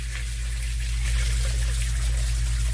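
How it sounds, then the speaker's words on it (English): Water runs continuously into a 24-inch wide, 5-foot deep vertical sump pump basin outdoors, a steady close trickling and splashing stream with a low hum beneath and no talk. "there's just so much water running here"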